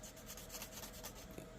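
Steady abrasive rubbing as a corn cob popper is sanded back down between coats, a continuous close-up rasp with small rhythmic strokes and no voices.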